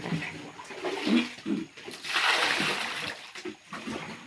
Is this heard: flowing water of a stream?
yes